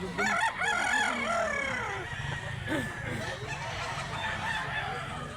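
A rooster crows loudly and close by in a rural hillside setting, with other fowl clucking faintly and a low murmur of people underneath.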